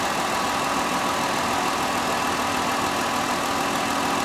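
Ford car engine idling with a vacuum leak, a steady loud rumble and hiss running continuously without change, close up and with no voices.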